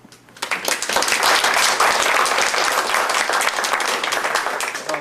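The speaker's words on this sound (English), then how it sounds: "The person you need to do the applause for is Bill Howe." Audience applause at a monthly group meeting, starting after a brief quiet moment and holding steady and fairly loud, with dense overlapping claps from many people filling the room.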